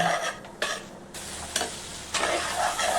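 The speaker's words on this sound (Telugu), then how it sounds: "ఇలా ఇవన్నీ బాగా కలిసేటట్టు కలుపుకోవాలండి" Brinjal pieces with spices are stirred in a sizzling pan, the spoon scraping in a few broad strokes over a steady frying hiss, close and clear with no talking.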